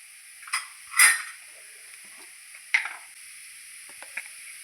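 A spoon stirs onion, green chilli and Kashmiri chilli powder in a pan, giving a few short scraping clinks and faint sizzling, sparse and close over near silence with no voices.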